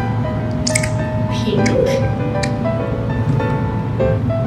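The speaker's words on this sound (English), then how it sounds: "we are going to drip some food coloring into the milk" Food coloring drips into a dish of milk, giving a few soft, brief drip and squish sounds spread across a steady background hum, with talk present.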